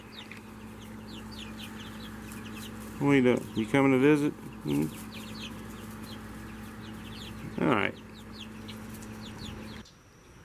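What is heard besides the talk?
birds clucking nearby, likely chickens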